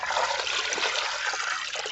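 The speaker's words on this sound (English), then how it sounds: "So I'm adding water." Water pouring from a tap into a tub or bucket for hand-washing bed sheets, a continuous splashing gush that stays steady and close throughout.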